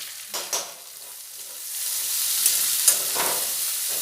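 Chopped onion and slit green chillies for chicken chowmin drop into a hot pan, with a couple of quick clatters and then a rising, steady hiss of frying, close, no talk.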